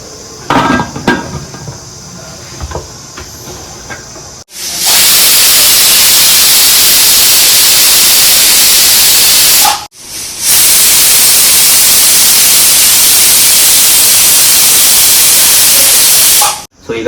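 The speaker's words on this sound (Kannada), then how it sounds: "ಇವಾಗ ಕುಕ್ಕರ್ದು ಲಿಡ್ ಮುಚ್ಚಿಬಿಟ್ಟು 2 ವಿಷಲ್ ಹಾಕ್ಸ್ಬಿಡೋಣ" A pressure cooker cooking biryani vents steam in two long, loud, roaring whistle-hisses, each running about five to seven seconds, after a quieter stretch of kitchen sounds.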